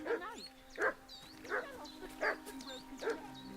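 A dog in Kingdom Come Deliverance 2 barks repeatedly at a steady pace, five sharp, clear barks against a low, quiet background hum.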